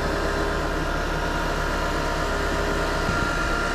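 Winch spooling cable onto its drum during a recovery of a crashed Toyota Corolla, with a vehicle engine running; a steady, loud, continuous idling drone with low rumble and vibration, no pauses.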